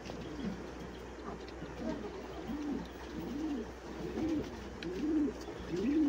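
Blue magpie pouter pigeons in a collection loft give repeated low, rolling coos at a steady pace, close and clear over a faint background hum.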